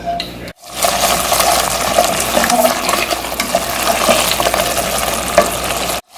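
Masala and yogurt frying in a pan for kofta curry, a steady dense sizzle with stirring scrapes running nearly six seconds after a brief pause at the start.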